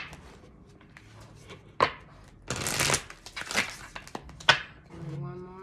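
Tarot cards being shuffled by hand, giving several bursts of riffling and flicking, moderately close and fairly loud, separated by quieter handling noise.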